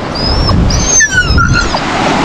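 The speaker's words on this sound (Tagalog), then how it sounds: "Lapitan tayo ng aso." A dog on a beach lets out several high, wavering whines and whimpers close by, over a steady background rush of surf and wind.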